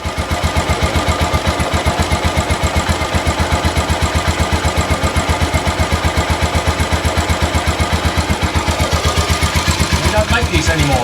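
A big 500cc single-cylinder bumper bike ticks over at idle, a loud, close, steady thumping beat of evenly spaced firing pulses that runs unbroken, with a faint extra rattle near the end.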